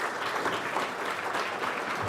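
An audience at the Kenya Internet Governance Forum 2023 applauds panelists with steady, dense clapping that holds evenly throughout, moderately loud with no voices on top.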